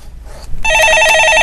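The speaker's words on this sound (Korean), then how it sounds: "전화 받아보겠습니다." A telephone rings loudly in a call-in stock market broadcast studio, its bright electronic trill rising abruptly after a brief hush and pulsing steadily on its own.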